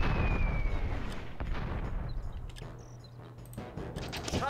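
Artillery fire in the Warhammer: Dark Omen strategy game: a loud opening blast with a long rumbling tail, followed by several sharper distant-sounding reports and bursts of crackling toward the end.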